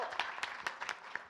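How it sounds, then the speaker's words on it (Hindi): Scattered clapping from a small crowd at the IIFA 2018 press conference, a brief burst of individual claps, close by. "पहले आप लोग प्लीज पहले तालियां बजाइए तालियों के गूंज में"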